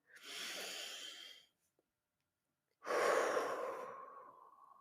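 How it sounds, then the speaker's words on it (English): A deep breath drawn in slowly, a pause of silence, then a long exhale, both close and soft with no voice over them. "Take a deep breath in."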